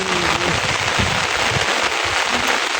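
Heavy rain pours during a Sylhet tour, a dense steady hiss with drops pattering on surfaces, loud and continuous, with no speech.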